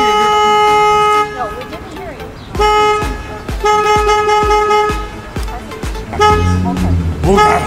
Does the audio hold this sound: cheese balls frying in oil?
no